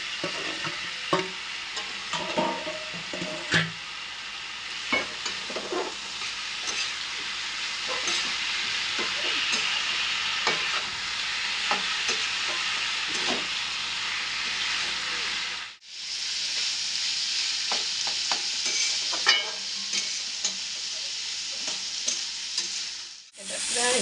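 Boiled, lightly mashed banana flower stir-fries in a pan with a steady close sizzle and repeated scraping strokes of a spatula, the frying continuing with a brief pause near the end, no voices.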